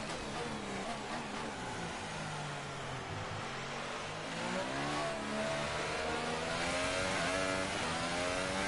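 A Ferrari Formula 1 car in F1 2018 at Abu Dhabi, its engine note a rising high-revving whine that swells louder toward the end as it approaches and passes.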